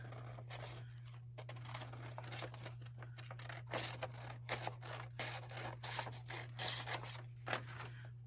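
Scissors trim the thin white edges off a paper Dollar Tree farmhouse Easter sign, making a steady run of close, crisp snips and paper rustles over a constant low electrical hum, with no speech.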